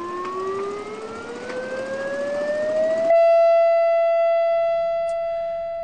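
A State Civil Defense hurricane warning siren winds up with a rising, wailing pitch, then settles into a loud, sustained steady tone that holds alone to the end.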